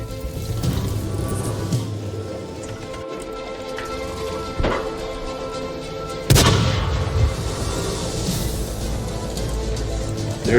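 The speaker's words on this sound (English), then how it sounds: "There's the enemy artillery." Enemy artillery in the tank battle game World of Tanks fires a few sharp, booming shots over a steady background rumble of battle, with no talking.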